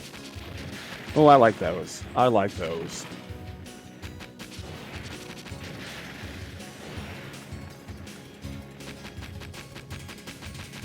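Two heavy booming cannon shots from the Chase Cannon weapon in a SEGA Genesis game fire about a second apart, then a person talks over a continuous low backdrop of game sounds.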